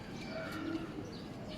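Young pigeons in a loft, giving soft low coos against a quiet background.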